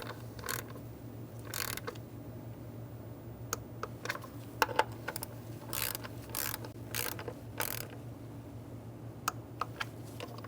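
A ratchet tightens the ignition coil bolts on a 2010-2013 Kia Soul 2.0L four-cylinder engine, giving quick bursts of clicking in short irregular runs over a low steady hum, close up with no speech.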